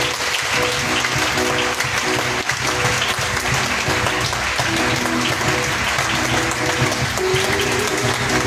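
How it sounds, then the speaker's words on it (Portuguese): A church congregation breaks into sustained applause during a worship service, dense steady clapping from many hands filling the room without pause, with faint sung or spoken sounds underneath. "Eu queria que você desse uma salva de palmas naquele papapá."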